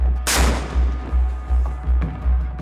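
A destroyer's front-deck naval gun, a Mark 45 5-inch cannon, fires with one sharp, loud blast over a deep rhythmic engine throb that keeps pulsing steadily beneath it.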